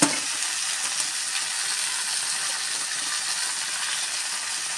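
Small fish frying in a small wok with turmeric, salt and cumin, giving a dense, even hiss of hot oil. The hiss stays steady and fairly loud from start to finish, with no voices.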